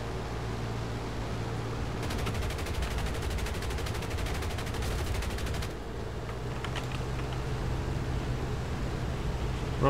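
Aircraft guns fire in the War Thunder video game, a rapid rattling burst lasting roughly four seconds over a constant loud engine roar, then a few shorter bursts follow.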